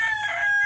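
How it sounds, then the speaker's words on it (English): A male Sims black rooster crows in one brief, strained burst, close and loud with no other sounds. "That is a male Sims black rooster."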